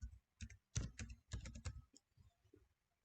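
Someone typing a Docker command on a computer keyboard: quick, close key clicks in irregular short runs, moderately quiet, with no talk.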